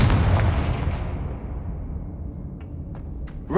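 A Confringo spell explodes in a Harry Potter video game with a loud, deep boom that fades slowly into a rumble, followed by a few small clicks.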